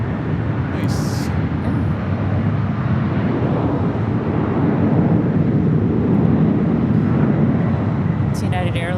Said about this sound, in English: It's United Airlines 1850 heading off to Newark, 757-200.